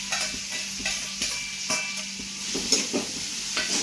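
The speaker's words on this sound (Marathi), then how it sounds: "मग कांदा टोमॅटो टाकते." Onion and tomato fry in hot oil, sizzling steadily up close while a spoon stirs and scrapes in irregular taps through the pan noise, with no talking.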